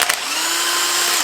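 An impact gun or power driver whirs steadily up close while removing engine head studs on a Honda K-series engine, one sustained high-pitched spin after a brief start.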